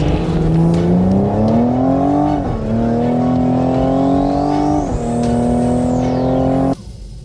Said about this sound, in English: All right, so we're gonna try launch control here.